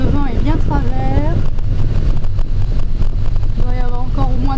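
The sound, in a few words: wind blowing while sailing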